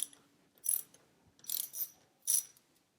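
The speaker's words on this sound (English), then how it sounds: "We need to remove this retaining clip holding the speed sensor cable, and you can use a size 10 socket for that." A socket ratchet loosening the retaining clip on the speed sensor cable of a Royal Enfield Interceptor 650, heard as four short bursts of rapid clicking pawl ticks separated by brief pauses, close by and without speech.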